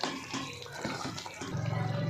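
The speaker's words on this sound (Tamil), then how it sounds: "இப்போ தண்ணி சேர்த்துக்கலாங்க." Water pours from a vessel into a pot of mutton biryani masala, a continuous close splashing stream with gurgling pulses, and no one talking during the pour.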